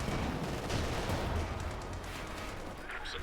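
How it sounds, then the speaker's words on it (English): Machine gun fire in the video game Company of Heroes 2, a dense rattle of rapid bursts under a continuous rumble of battle noise, fairly faint and busy throughout. "Machine gun suppressed the section"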